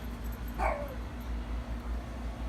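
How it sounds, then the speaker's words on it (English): A single distant dog bark, brief and muffled, rising once over a steady low hum of background noise. "Sorry about the dog, that's the neighbors"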